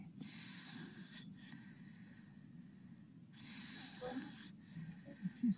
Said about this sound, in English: You can hear him snoring. He's breathing through his mouth, not through his nose.